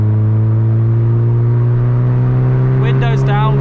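A Mazda MX-5 MK2 accelerating through the gears on a UK road, a loud steady engine drone with strong low harmonics heard from inside the cabin, with a voice speaking briefly near the end.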